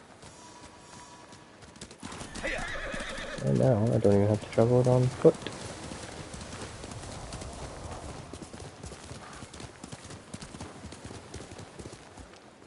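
A horse in the video game Ghost of Tsushima neighs with a quivering whinny amid galloping, clopping hooves, and someone talks quietly over faint background sounds.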